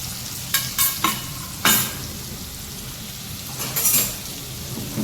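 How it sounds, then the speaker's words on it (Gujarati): Ginger, chilli and onion fry in a pan under a steady sizzle, with several sharp scraping stirs near the start and another short flurry of stirring later, close and moderately loud. "હવે બધું મિક્સ કરી અને ચડવા દેવાનું"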